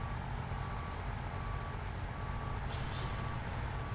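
Steady reversing beeps repeat from a large truck in the SnowRunner game, heard over a low, continuous diesel engine rumble with a brief hiss partway through.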